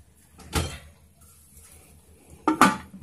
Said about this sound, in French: Après, on met le couvercle.